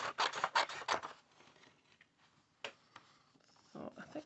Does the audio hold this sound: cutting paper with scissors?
yes